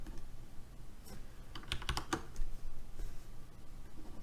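Fingers tap a quick cluster of keys on a computer keyboard, close and fairly quiet, with a few scattered keystrokes before and after the burst over a low room hum.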